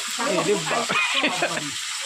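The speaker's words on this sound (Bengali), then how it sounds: "জল পড়ছে তেলও ফুটছে" Oil sizzles in a kadai as water drips into it, making a close, crackling hiss with uneven pops. Something that sounds like a voice murmurs faintly underneath.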